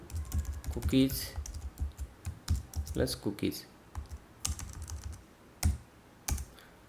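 Typing code on a computer keyboard, with close, irregular bursts of key clicks and sharper taps mixed with brief spoken words.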